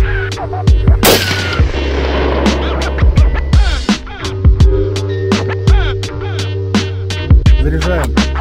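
Saiga TG-2 gas pistol fires a long series of sharp, loud shots at close range, about a dozen and a half cracks spaced irregularly, each ringing briefly over a steady low background hum.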